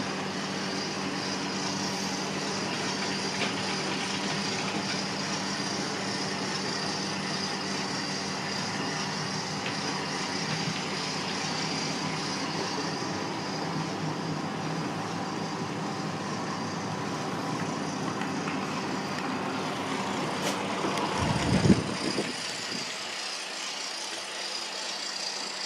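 The old engine of the R739 breakdown crane truck winds up with a sustained loud rumbling drone, then dips sharply near the end before settling again.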